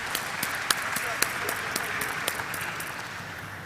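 Moderate audience applause at the Flair Writing Industries Limited listing ceremony, a soft background patter with some distinct nearby claps, while a speaker talks over it.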